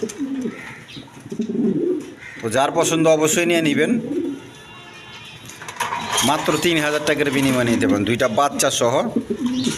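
Tulip pigeons coo softly in a loft, low murmuring calls mostly under someone talking at length in the foreground.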